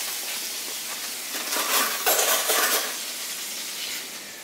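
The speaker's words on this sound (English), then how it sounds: "Sizzle in the pan! There's corned beef brisket in hand." Corned beef brisket sizzles in a pan, a bright, continuous hiss that swells loudly midway and then settles back to a steady crackle, with no talking over it.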